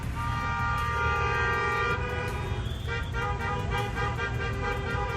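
Train horn blaring loudly and continuously over a heavy rumble of rail traffic, the tone shifting partway through into a pulsing, repeated pattern.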